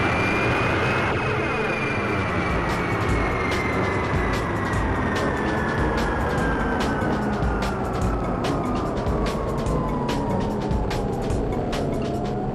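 Jet engine wash from a vehicle in the PlayStation game 007 Racing, a loud, sustained roaring whine whose pitch slowly falls across the clip, with dense engine rumble underneath.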